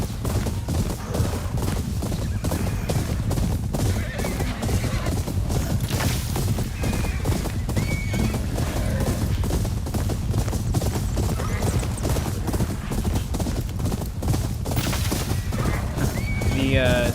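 Several horses gallop alongside in the video game Ghost of Yōtei, a dense, heavy rumble of hoofbeats with occasional whinnies, steady and loud throughout, mixed with game sounds and some voices.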